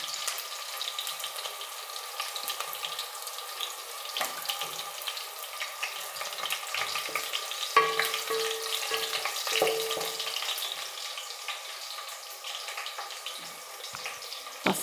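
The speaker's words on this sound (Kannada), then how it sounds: "ಹಸಿಮೆಣಸಿನ್ಕಾಯಿ ಎಣ್ಣೆಲಿ ಚೆನ್ನಾಗಿ ಫ್ರೈ ಆಗಿ ಖಾರ ಎಲ್ಲ ಎಣ್ಣೆಗೆ ಹಿಡಿಬೇಕು." Green chillies fry in oil for a ladies finger curd curry, producing a faint, steady sizzle with occasional light clicks and taps of stirring.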